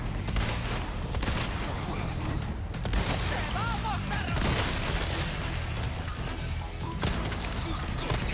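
Game gunfire from Resident Evil 4 Remake's Mercenaries mode with Leon: repeated bursts of shots and booms over busy in-game noise and effects, with a voice heard briefly in the mix.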